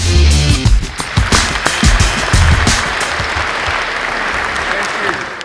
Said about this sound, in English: Ladies and gentlemen, can we have a warm round of applause for Brett?